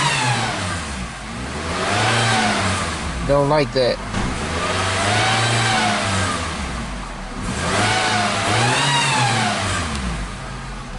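A Nissan Rogue engine with a JF011E transmission revs up and down in long swells, close and loud, with a brief clatter and a voice speaking in the middle.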